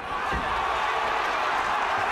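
A Belfast boxing crowd at a fight between Martin Lindsay and John Simpson, a steady broad roar of voices urging on the local fighter, with a low thud near the start.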